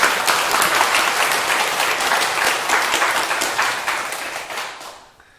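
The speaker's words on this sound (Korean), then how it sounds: "박수 주세요" An audience at a Buddhist monk's dharma lecture in Korea breaks into warm, dense applause that holds steady for several seconds, then fades away at the end.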